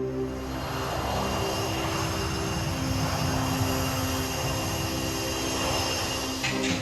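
A passenger jet airliner taking off for Paris makes a continuous, loud engine roar, steady and broad, with no voices over it.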